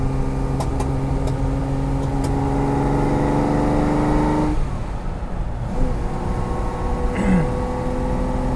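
A cold carbureted car engine idling roughly, then popping and spitting in a few brief bursts, heard close and loud with a steady engine hum throughout and no talk.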